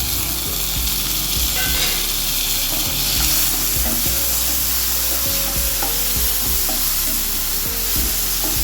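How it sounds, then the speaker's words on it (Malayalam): Tomatoes tossed into a pan of sizzling onions for a spinach curry, steady loud frying hiss with repeated scraping and stirring clicks throughout. "സവോള റെഡി ആയിട്ടുണ്ട് നമുക്ക് തക്കാളി ഇട്ട് കൊടുക്കാം"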